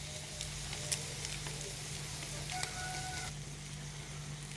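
A potato and egg mixture fries in hot oil, a continuous soft sizzle with a few faint clinks and light taps of a utensil, close but quiet and without talk.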